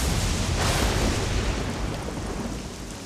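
Thunderstorm with heavy rain in the strategy game Battle Realms: a loud, steady wash of rain and low thunder rumble that swells early, then eases slightly, with no other sounds.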